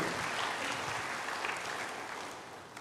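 A congregation applauds during a church service, a dense, even patter of clapping that fades slightly toward the end.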